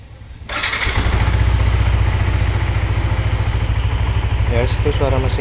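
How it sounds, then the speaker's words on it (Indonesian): A motorcycle engine running on Repsol 20W50 oil starts with a quick crank, then settles into a loud, steady, close idle with a rhythmic mechanical pulse. "Ya itu suara mesinnya."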